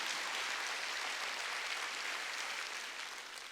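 A church congregation at a Wednesday service claps together in a steady wash of applause, fairly distant and even throughout, tapering slightly at the end, with no voices over it.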